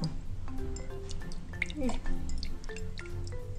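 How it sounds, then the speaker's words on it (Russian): Boiling water is swished and dripped around inside glass jars being rinsed before plums are packed for winter preserves, a wet splashing and dribbling that runs steadily under a low background hum with a brief spoken word. "водичкой так ополоснули со всех сторон"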